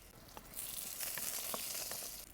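Garlic dropped into hot oil with roasted green chillies in a kadhai, giving a steady close sizzle with a few small crackles and pops, no voices.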